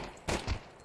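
Two quick muffled gunshots in the video game Counter-Strike, a sharp crack followed by a deeper thump a moment later, faint and brief.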